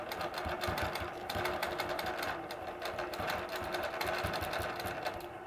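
A sewing machine stitches scroll borders with S-curve templates, its needle running in a steady, continuous rapid patter close to the microphone for the whole stretch, with no talking.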